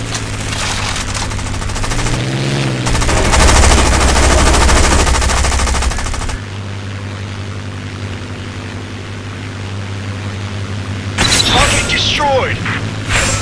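Machine gun fire from a World War aircraft combat game, with propeller plane engine drone; long sustained bursts of rapid automatic fire, loud and close, followed by quieter engine noise and a renewed clatter near the end.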